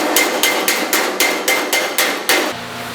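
Sharp metallic hammer blows planishing sheet metal against a dolly strike in a steady rhythm, about nine ringing taps close by, each decaying quickly before the next.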